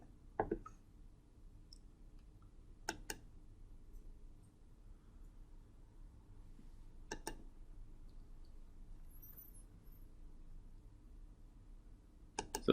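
A few sharp, isolated mouse clicks spaced several seconds apart in a quiet room, close and crisp over faint background hiss.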